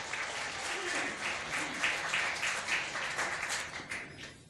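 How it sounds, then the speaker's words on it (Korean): Members of a Korean Won Buddhist temple congregation applaud during a new head minister's welcome, a full crowd of hands clapping in slightly swelling waves for several seconds before starting to taper off. "다시 한번 박수 부탁드리겠습니다."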